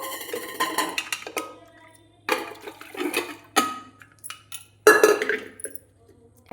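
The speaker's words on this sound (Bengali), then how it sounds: "এবার আলুটা ঢেলে নেব" Boiled potatoes tipped out of a pot in a home kitchen, giving bursts of clattering, sloshing water and clinking against metal in three separate pours with short quiet gaps between.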